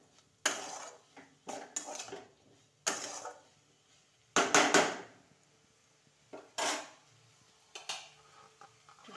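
Cumin and coriander powder being stirred in a cooking pot, intermittent scraping strokes of a spoon against the metal at an uneven rhythm, close and clear with quiet gaps between.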